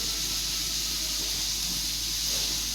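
Fish pieces frying in hot oil in a home kitchen, giving a steady, dense sizzle and crackle close to the pan that holds at an even level throughout with no talking.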